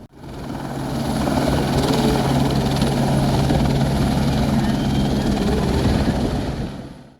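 A helicopter on the Amarnath Yatra pilgrimage route flies close by, its loud, steady rotor chop and engine roar holding for several seconds before easing off at the end, with no talking.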